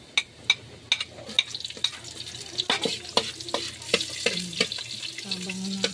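Onion fries in a pan while being stirred, with a low sizzle under a string of clacking utensil taps and scrapes, close and fairly quiet, plus a faint brief running-water sound.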